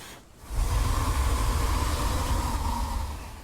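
A long, breathy hissing dinosaur call from the game Path of Titans swells in after a brief pause and sustains for a few seconds before fading slightly.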